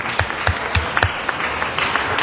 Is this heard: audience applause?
yes